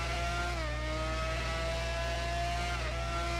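An open-wheel race car in Formula Omega qualifying at the Italian Grand Prix, heard from onboard: a thin, high engine whine climbs in pitch, drops briefly at two gear changes, then climbs again, fairly quiet and without talk.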